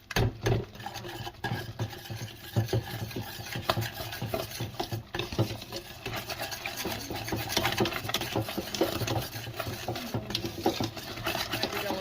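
Heavy cream and cheese being stirred into a pot of grits for shrimp and grits, a steady scraping, sloshing stir that runs continuously at moderate loudness with no talking.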